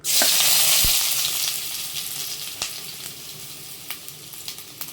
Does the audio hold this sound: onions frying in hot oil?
yes